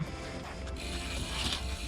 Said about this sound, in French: je vais passer un petit coup de brosse à dents sur la chaîne